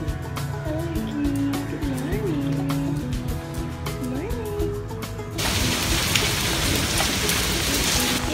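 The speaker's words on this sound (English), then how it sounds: "it's a rainy Thursday" Rain falls on a cold, wet Thursday morning as a steady hiss of drops that grows fuller and louder partway through. Murmuring voices and other tonal sounds run underneath.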